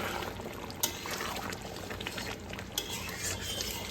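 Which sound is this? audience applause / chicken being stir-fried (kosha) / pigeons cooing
chicken being stir-fried (kosha)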